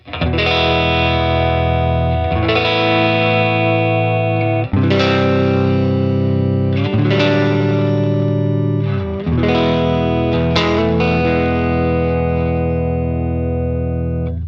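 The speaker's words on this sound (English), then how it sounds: "the sound of a Tweed amp breaking up in the very unique way it does" An electric guitar through a Universal Audio Woodrow tweed amp simulation strums sustained chords with gritty, crunchy breakup, several strums ringing out over about fifteen seconds.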